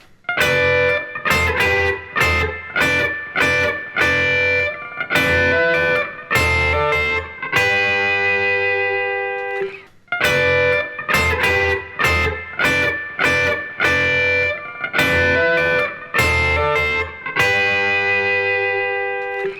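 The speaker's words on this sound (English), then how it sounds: "Jeff plays Mary Had a Little Lamb in thirds" Electric guitar plays Mary Had a Little Lamb in two-note harmony a third apart, with a lightly driven, effected tone. Clear repeated plucked phrases run through the passage, with a brief pause near the middle before the melody starts again, and no talking.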